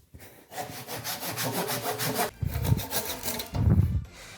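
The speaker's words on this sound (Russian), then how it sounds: "И теперь мне надо ее распилить на 4 части для того, чтобы сделать основание." A hand saw cuts through wood, making steady rasping back-and-forth strokes up close, loud and continuous, with the rhythm breaking briefly between strokes.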